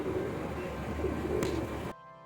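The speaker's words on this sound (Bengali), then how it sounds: "আর আমার এই যে বন্ধু সঙ্গী পায়রা বসে আছে এখানে" A pigeon perched close by gives a few low, soft coos over a steady background hum before the sound cuts off near the end.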